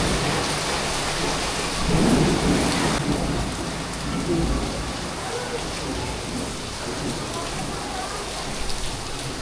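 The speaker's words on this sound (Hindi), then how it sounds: "और अब तो बारिश भी बहुत तेज आ रही है।" Heavy rain pours down steadily in a village during a thunderstorm, with a loud rumble of thunder swelling near the start over the constant hiss of the downpour.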